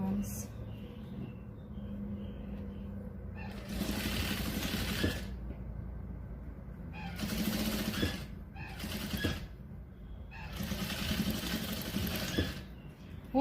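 Sewing machine stitching strips of patchwork fabric into a bag, running in several steady bursts of mechanical whirring separated by pauses, close and moderately loud.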